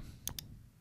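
Two quick, faint mouse clicks on a Windows 11 computer, close together in quiet surroundings.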